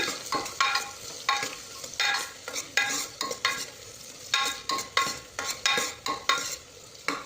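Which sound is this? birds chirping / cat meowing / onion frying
onion frying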